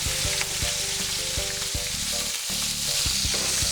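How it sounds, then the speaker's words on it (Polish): Pork and tomatoes sizzle and fry steadily in a pan while being stirred, a loud continuous crackle with no voices present. "Wszystko to sobie mieszamy."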